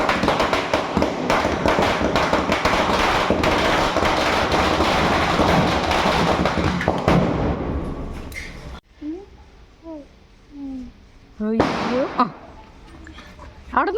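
Firecrackers burst during a Vishu festival celebration in Kerala, with a dense, rapid volley of sharp cracks for several seconds. A few later isolated pops are heard amid scattered voices talking nearby.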